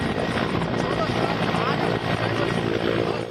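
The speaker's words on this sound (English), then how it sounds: "special operations drills using Apache attack helicopters, Chinook transport helicopters," Military helicopters, Apache attack and Chinook transport types, flying during special operations drills, giving a loud, steady rotor and engine roar that stays constant throughout with no gaps.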